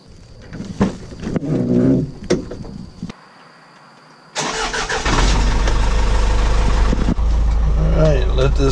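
Pepperidge Farm bread delivery truck engine cranks, falls silent briefly, then catches and settles into a steady loud idle as it warms up, with someone talking near the start.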